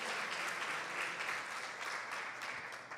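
A church congregation applauds the Lord during a worship service, a steady, dense wash of clapping held at a moderate distance for the whole stretch, with no voices over it.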